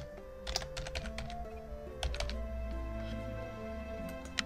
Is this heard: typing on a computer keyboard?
yes